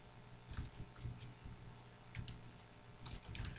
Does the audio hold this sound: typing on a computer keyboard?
yes